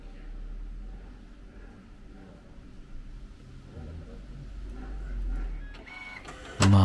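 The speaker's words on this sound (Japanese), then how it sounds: "幻のデカールプリンターアルプス MD1500、 シアンマゼンダイエローのインクリボンが4層に折り重なり印刷されていきます。" An Alps MD1500 decal printer runs steadily as cyan, magenta and yellow ink ribbons print onto a decal sheet, a continuous mechanical whir with shifting motor tones that ends in a sudden louder clunk.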